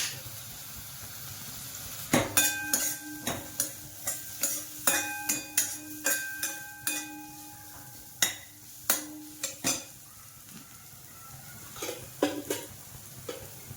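Garam masala and curry leaves sizzle in hot oil in a home kitchen while a khari patties filling is prepared. A steady, soft frying hiss sits under repeated clinks and scrapes of a spoon stirring the pan.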